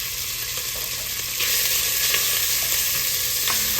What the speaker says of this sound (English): I wanna get this bacon here going. Searing off.